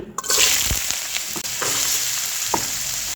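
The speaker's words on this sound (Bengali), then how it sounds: "তেলটাকে গরম করে নিয়ে এখন দিয়ে দিচ্ছি কেটে ধুয়ে রাখা আলু" Cut, washed potatoes drop into hot oil in a wok and set off a loud, close, continuous frying sizzle, with a few spatula scrapes and knocks over the steady hiss.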